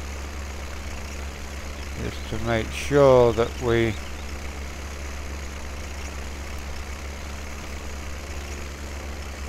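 A farm tractor idles with a low, steady engine rumble throughout, while someone speaks briefly over it partway through.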